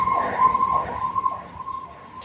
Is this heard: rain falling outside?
no